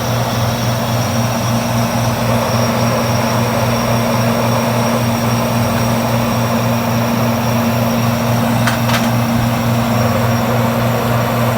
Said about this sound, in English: Ooh, it has a startup sound on the fan motor.